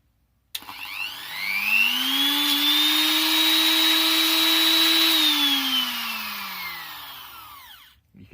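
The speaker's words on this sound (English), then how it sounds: "Ministry of Defence grinder. Shall we see it run?" A vintage Ministry of Defence electric grinder switches on, spins up to a steady high whine, holds for several seconds and then winds down, running loud and close with no talk over it.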